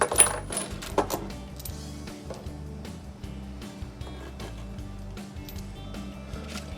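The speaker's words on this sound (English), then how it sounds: "Laying out all the bolts, washers, and nuts." Metal bolts, washers and nuts for a Smittybilt XRC rear bumper and tire carrier on a Jeep are laid out, with dense close clinking and rattling of loose hardware over a steady low background hum.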